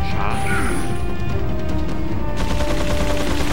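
Rapid gunfire in the Resident Evil 4 video game, loud bursts and crashing impacts that clatter close by in a dense, continuous volley for several seconds.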